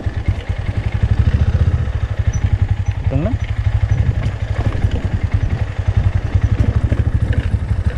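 Motorcycle engine braking in low gear down a steep slope on the way up to the Ban Huai Mi campground in Bo Kluea, Nan, giving a loud, close, pulsing engine throb throughout, with someone talking over it.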